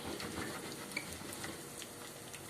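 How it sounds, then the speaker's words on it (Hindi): Fenugreek seeds and henna leaves fry in oil for a homemade herbal hair oil, making a soft, steady crackling sizzle with faint ticks and light stirring, quiet and continuous without any voices. "मेथी दाना डालेंगे, ठीक है, और मेहंदी के पत्ते भी डाल देंगे ताकि अच्छी तरह जल जाए।"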